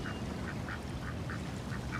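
Ducks quack in a steady series of short calls, about eight over two seconds, heard over a constant low rumble of outdoor background noise.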